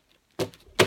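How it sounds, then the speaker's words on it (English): Oracle cards being shuffled by hand, two short papery riffling bursts close by with a quiet gap between, no talking. "Just shuffling my Doreen Virtue cards."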